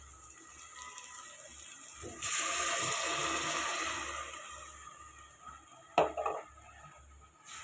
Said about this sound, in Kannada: ಇದಕ್ಕೆ ಸ್ವಲ್ಪ ನೀರು ಸೇರಿಸ್ಕೊಂಡು ಹಾಕ್ಕೊಬೇಕು.